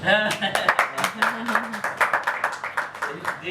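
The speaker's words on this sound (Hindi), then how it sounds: "इस बात पर ताली होगी" Audience clapping in rapid irregular bursts at a talk show about Lahore and classical music, continuous across the clip with voices mixed in.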